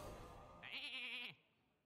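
A single cartoonish sheep bleat from a Hearthstone polymorph spell, a wavering nasal cry lasting under a second, loud and clear over quiet game ambience, then fading out.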